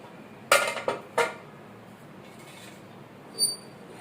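Metal clinks and clatters close by as the whistle is lifted off a pressure cooker lid in a kitchen, with two or three sharp knocks followed by a faint later clink.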